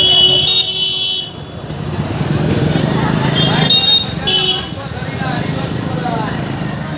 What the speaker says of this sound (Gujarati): ટ્રાફિક ટ્રાફિક ને ટ્રાફિક